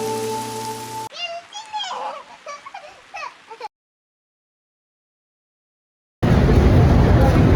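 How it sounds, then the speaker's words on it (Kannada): Rain starting to fall becomes a loud, steady hiss that returns after a pause of silence. Before it, a voice talks briefly over a background hum. "ಮಳೆ ಶುರುವಾಯ್ತು"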